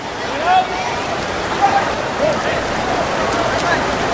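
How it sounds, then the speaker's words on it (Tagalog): Heavy rain pours steadily over Emperador Stadium during a Philippine football league match between Stallion Sta. Lucia FC and Loyola Meralco Sparks FC, a dense constant hiss with faint voices and whistles in the background. "medyo malakas po yung ulan dito sa Emperador Stadium"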